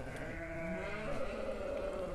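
Sheep bleat on a livestock farm, overlapping drawn-out calls from the flock rising over a constant background murmur, fairly close and with no talk.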